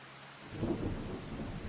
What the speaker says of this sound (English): It rained the entire stream in the game.